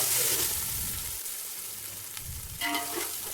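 Onions with cinnamon, cloves, shahi jeera and cardamom fry in oil in a pot for chicken biryani, a steady close sizzle with soft crackles and a brief stirring scrape near the end.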